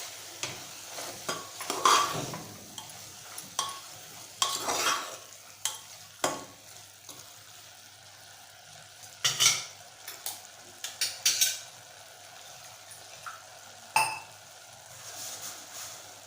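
Coconut paste sautéed in a pan for a sprouted red cowpea usal, with a soft steady sizzle beneath sharp scraping and clinking stirs that come in irregular bursts, close by and alone.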